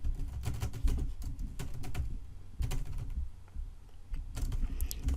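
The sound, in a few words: typing an essay on a computer keyboard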